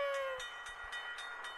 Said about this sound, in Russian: Электричка проезжает.